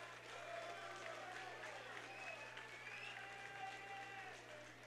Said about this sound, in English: a round of applause for these great fighters